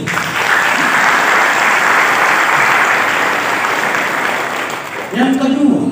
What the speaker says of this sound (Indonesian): Mari kita tepuk tangan bagi Tuhan.